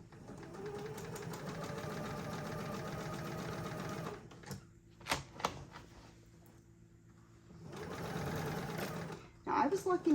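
Sewing machine stitching quilt binding in a steady, fast mechanical chatter for about four seconds, then a pause with a few clicks and brief speech, before another sustained run of stitching resumes close by.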